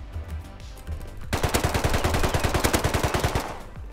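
Rapid bursts of HLMG machine gun fire in the Rust survival game, a dense rattling string of shots starting suddenly and running steadily for a few seconds, loud and close with no talk.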